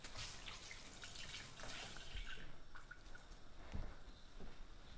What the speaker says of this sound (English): what I'm going to do is wash my hands first